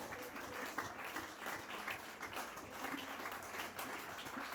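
A church congregation bursts into steady applause and clapping after a reading of scripture, a dense, continuous wash of many hands that holds at an even level throughout, with a few voices faintly mixed in.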